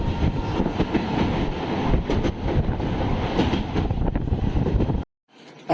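A passenger train running from New Jalpaiguri to Haldibari gives a steady, loud rumble and rattle from on board, then cuts off abruptly near the end.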